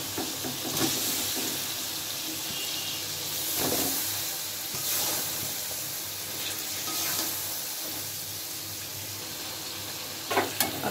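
Fish heads dropped into a pot of spiced lentil dal with fried spices, giving a steady sizzle and hiss with a few stirring clatters, close and moderately loud, no talking.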